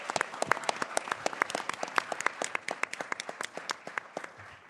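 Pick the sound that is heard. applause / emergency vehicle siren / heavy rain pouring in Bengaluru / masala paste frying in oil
applause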